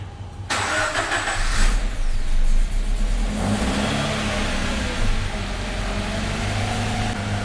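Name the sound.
car engine running after starting up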